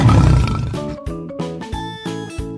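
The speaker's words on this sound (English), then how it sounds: "The tiger is the largest living cat species" A tiger gives a deep rumbling roar, followed by a series of four shorter grunting roars in a rhythmic sequence, loud and close with no other sounds.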